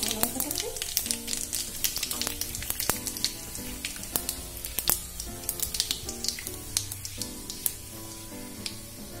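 Cumin and dried red chillies fry in oil with scattered sharp pops and crackles over a soft sizzle. A melodic music bed plays underneath.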